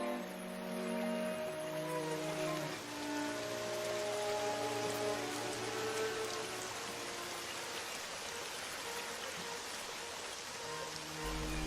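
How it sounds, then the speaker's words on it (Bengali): Steady rain falls throughout a Bengali cartoon scene, a continuous wash of patter that stays even and fairly loud, with tonal background music running beneath it. "আরে এই তো বৃষ্টি চলে এসেছে।"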